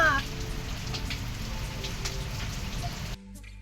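Light drizzle falls outside in a steady, soft patter of raindrops that continues evenly without voices, then cuts off abruptly near the end.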